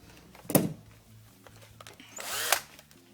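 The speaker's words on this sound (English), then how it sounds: "I'm going to drill a 1mm hole just there on that face" A power drill bores a 1mm hole into a W204 Mercedes C-Class headlight housing in two short, close whirring bursts separated by a quiet pause.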